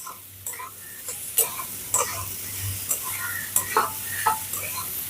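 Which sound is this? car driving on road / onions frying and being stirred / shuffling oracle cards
onions frying and being stirred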